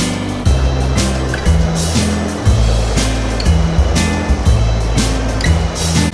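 A river waterfall at a historic village rushes steadily as a loud, continuous broadband roar, with a deep uneven rumble running beneath it for the whole stretch.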